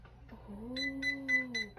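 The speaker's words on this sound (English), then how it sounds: "Oh, it did beep, okay." Four short, high electronic beeps from a Chi Spin N Curl curling iron repeat evenly over a faint low tonal hum, fairly quiet and close by.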